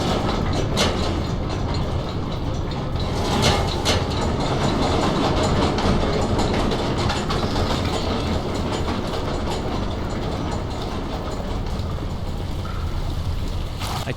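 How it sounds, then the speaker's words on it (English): Noisy machinery running continuously in the game Amnesia: The Dark Descent, a dense, loud mechanical rumble with rattling, clanking texture like a rolling train, steady throughout with no talking. "The two levers control the noisy machine."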